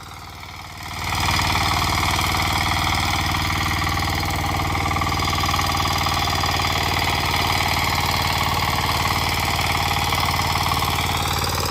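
A Kama 9hp diesel power weeder with worn tines tills hard farm soil, its engine rising after a second into a loud, steady, close knocking drone that runs on without pause and without talk.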